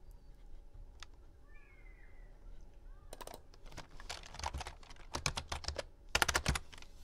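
Keys tapping on a computer keyboard while information is typed into a Publisher document, quiet at first and then in dense, loud bursts of clicks during the second half.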